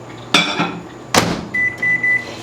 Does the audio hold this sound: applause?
no